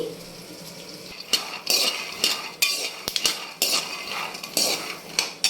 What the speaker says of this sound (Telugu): సిమ్లో పెట్టి వేయించుకోండి